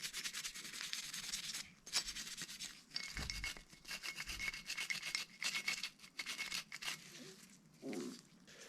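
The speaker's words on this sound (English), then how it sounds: "going to kind of just scrub everything with a cleaning brush, just in case there's any gritty stuff that's still left on there." Cleaning brush scrubbing an AR-15 bolt carrier group, a close, rapid, gritty back-and-forth bristle rasp in continuous bursts with brief pauses.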